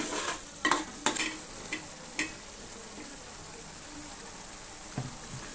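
Raw mango pieces are dropped into a simmering chicken curry and stirred in, giving a few soft scrapes and clacks over a faint, steady sizzle, quiet and fairly close with no talking.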